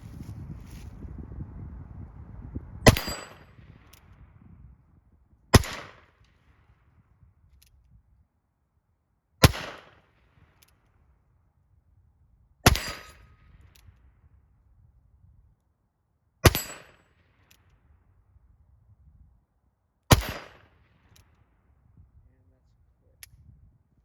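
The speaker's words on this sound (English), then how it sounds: "Okay, final 6 shots." Six loud, sharp revolver gunshots from a Howell .38 Special conversion cylinder, fired outdoors one at a time a few seconds apart, each crack ringing briefly into quiet after some wind noise at the start.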